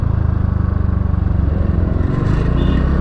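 A scooter engine revving hard during a wheelie on an open road, a loud, steady, buzzing drone with a rapid pulsing throb, rising slightly toward the end.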